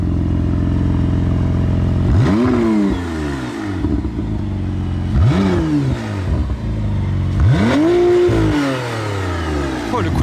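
A McLaren Artura sports car's engine is revved three times, each blip sweeping up sharply and falling back to a loud, close idle between revs.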